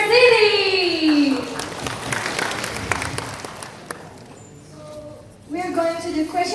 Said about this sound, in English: please give a round of applause for National Central